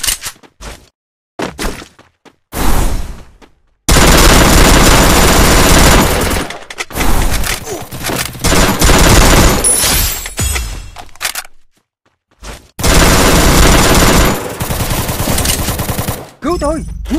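Gunfire in the mobile battle royale game Garena Free Fire, with loud bursts of automatic fire and single shots in sharp clusters, broken by short silent gaps.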